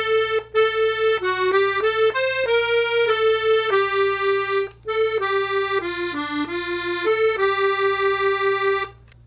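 A 32-bass accordion plays a bright, reedy Yankee Doodle melody of sustained notes stepping up and down, with a steady low alternating bass beneath, close and clear.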